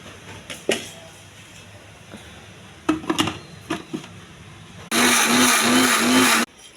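A mixie jar grinding fresh coconut, cumin and onions with tomatoes into a paste: a few knocks and clatters as the jar is set, then a loud, steady motor whir that runs for about a second and a half and stops abruptly.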